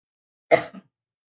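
A single short cough, close and clear, followed by a brief softer catch, then silence.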